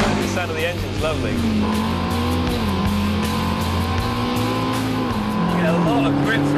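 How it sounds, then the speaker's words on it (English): A McLaren road car engine runs steadily and loudly nearby, its pitch rising and falling as the car accelerates and eases off on a test track. "The sound of the engine's lovely."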